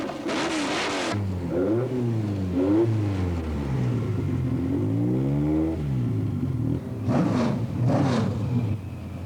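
Hillclimb race cars at an Inistioge course rev hard one after another, engine notes sweeping up and down through gear changes as they pass nearby and fade, with louder bursts at the start and end.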